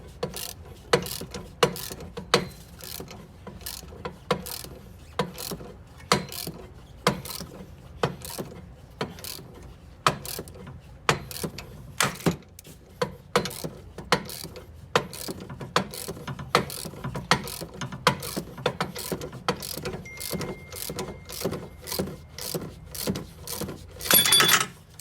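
A ratchet wrench tightens a bolt on a Dodge Charger camber kit, a long run of steady metallic clicks in repeated strokes, close and clear, with a slight quickening near the end.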